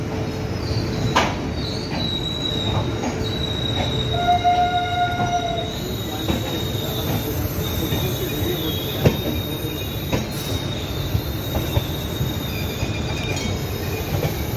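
The Kolkata–Sairang Express pulls away from platform 1 at Kolkata, with steady rumbling wheels, clanking railcars and a sustained high wheel squeal running throughout the departure.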